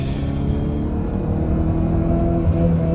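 A Peugeot 206 GTi hatchback's 135 hp engine revs steadily and loudly, a continuous close-up drone that swells slightly toward the end with no pauses or talk.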